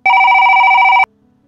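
A loud electronic telephone ring sounds once for about a second as a steady buzzing trill, then cuts off abruptly into near silence.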